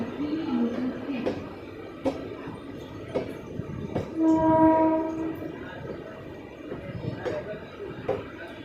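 A Titwala local train departs Kalyan junction platform 1, giving a long, loud horn blast midway over rumbling wheels and rhythmic clacks, amid station noise and background voices.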